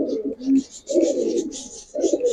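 Giribaz pigeons in a loft coo softly in several short, repeated bursts, fairly close and quiet, with faint background noise.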